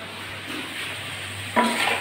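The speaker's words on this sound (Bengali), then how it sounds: "আমি চুলের উপর আলুটা ভাজতে বসিয়ে দিয়ে এসেছি, ভাজা মনে হয় হয়েই গেছে" Potatoes fry in a pan for a goat meat curry with a soft, steady sizzle. A brief clatter of a spoon stirring comes near the end.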